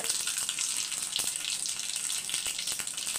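Mustard seeds splutter in hot oil during tempering, a dense bright crackle of rapid pops over a continuous sizzle, close and fairly loud with no talking.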